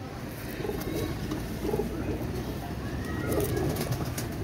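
A Pakistani teddy pigeon coos nearby in a series of low, rounded calls spaced about a second apart, over a steady background hum and light rustling.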